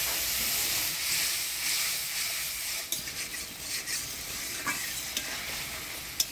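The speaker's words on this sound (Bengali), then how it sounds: "অল্প মশলা ধোয়া জল দিয়ে ভালো করে মশলাটা কষিয়ে নেব।" Spice paste with chili paste, turmeric and salt sautéing in a pan in a Bengali village kitchen, loosened with a splash of spice-rinsing water: a steady close hissing sizzle, later broken by a few scraping stirs and light knocks.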